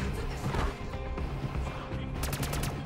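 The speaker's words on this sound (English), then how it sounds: "Shoot the gunship that's chasing us." Rapid automatic gunfire in COD MW3 Zombies aimed at a chasing gunship, dense and continuous bursts with sharper cracks near the end.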